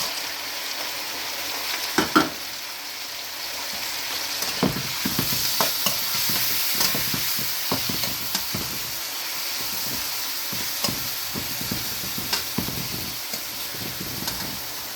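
Tomatoes frying in a pan for pakbet, a Filipino vegetable dish, with a steady close sizzle and hiss broken by scattered scrapes and clinks of stirring.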